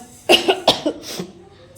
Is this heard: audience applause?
no